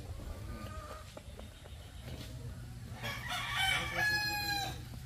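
Roosters crow and hens cluck at a snake caretaker's enclosure where chickens are kept, the calls building louder and more insistent in the second half over steady low background noise.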